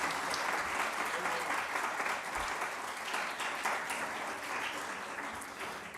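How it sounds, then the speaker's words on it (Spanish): Audience applause fills the room at a forum discussion on countering fake news, a steady wash of clapping that holds throughout and eases slightly toward the end. "Un aplauso, por favor."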